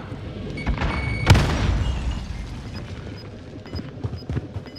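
A frag grenade explodes in Call of Duty: Warzone on Fortune's Keep, a single loud booming burst that trails off into rumbling game noise, followed by faint scattered in-game sounds.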